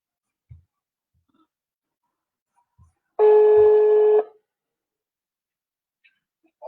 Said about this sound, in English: So I'll start by calling Ken.